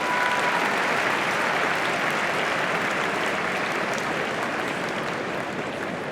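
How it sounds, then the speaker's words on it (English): Muted applause from the tennis crowd at Roland-Garros during a quarter-final, a steady, even patter of many hands that holds for the whole stretch without cheers or voices. "Muted applause as well."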